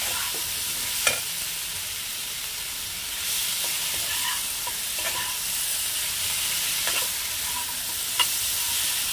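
Vegetables dusted with a little turmeric fry in a pan, giving a steady close sizzle and hiss with a few sharp clinks and scrapes as they are stirred. Nobody speaks.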